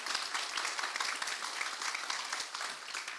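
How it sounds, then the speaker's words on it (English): An audience at a ribbon cutting for a family safety center in Nashville claps for itself, a fairly quiet, continuous patter of many hands that holds steady and tapers slightly at the end. "so clap for yourself"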